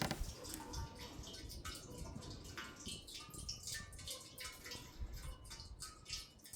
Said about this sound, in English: You essentially pour water from this ladle into the rocks.